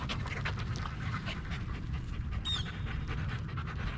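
A mini goldendoodle pants steadily and close by for the whole stretch, quick rhythmic breaths over outdoor background noise, with a brief high chirp near the middle.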